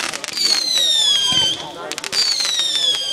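Bonfire Night fireworks go off in quick succession: two long, high whistling shrieks that slowly drop in pitch, with crackling bursts and pops around them, loud and fairly close, with voices nearby.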